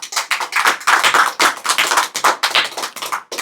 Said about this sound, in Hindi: ताली बजा के हम उनका अभिनंदन करेंगे, ताली बजाकर